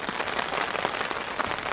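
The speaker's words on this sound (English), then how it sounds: "As the snow has turned to rain" Cold rain that has turned from snow patters densely and evenly on a camp tarp during a spring canoe trip in Algonquin, a steady close hiss with no voices.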